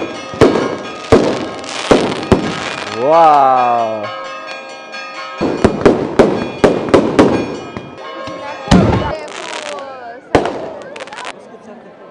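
Easter fireworks in Paralia Katerini, Greece: loud, sharp bangs and crackles go off one after another, and a rising whistle sweeps upward partway through. People exclaim and talk between the blasts.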